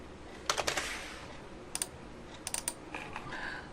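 Keys tapped on a computer keyboard while a folder name is entered, heard as short bursts of crisp clicks separated by pauses, close and moderately quiet with no talking.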